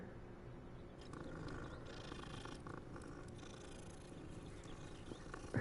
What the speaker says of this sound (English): Let's pet the cat real quick.